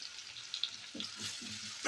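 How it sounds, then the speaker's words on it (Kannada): Curry leaves and onion frying in hot oil for dry chicken masala, a close, steady sizzle with a few crackling pops and a brief stirring scrape near the end, heard on its own. "ಸ್ವಲ್ಪ ಕರಿಬೇವಿನ ಸೊಪ್ಪು ಒಗ್ಗರಣೆಗೆ ಹಾಕ್ಕೊಳ್ತಾ ಇದ್ದೀನಿ. ಚೆನ್ನಾಗಿ ಫ್ರೈ ಮಾಡ್ಕೊಳ್ಬೇಕು."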